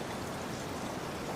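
Steady, dense rainfall forms an even wash of hiss with no pauses and no voices.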